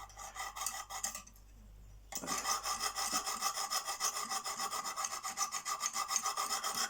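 A Lansky sharpening stone rasps in quick, regular strokes along a CK Viper knife edge to remove the burr, close and crisp, with a brief pause before the steady rubbing resumes.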